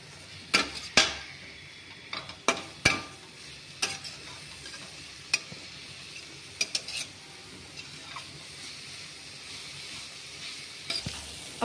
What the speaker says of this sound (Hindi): थोड़ा सा हल्दी। आप सभी चीज़ों को अच्छे से चला लेंगे फ्रेंड्स।